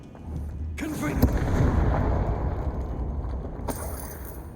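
A Confringo blasting-spell explosion in a wizard-school video game: a loud, rumbling blast that rolls on for a few seconds before a second burst near the end.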